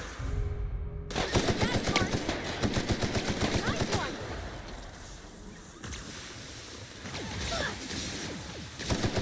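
Automatic gunfire in the video game The Outer Worlds during a fight at a derelict station, dense rattling bursts continuing throughout over a rumbling ambient background, loud and close.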